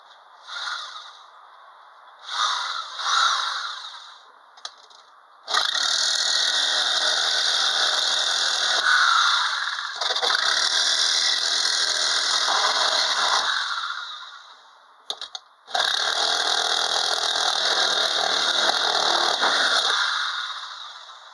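A back-and-forth saw fitted with a fine 18-teeth-per-inch blade cuts black-painted aluminum, starting with a few short rasping bursts and then running in two long, loud, grinding stretches separated by a brief pause.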